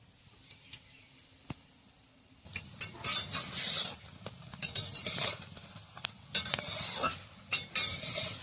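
Helencha greens fritters frying slowly in a kadai over a village wood-fired clay stove, quiet at first with a single clink, then close bursts of sizzling mixed with metal spatula scrapes and clinks.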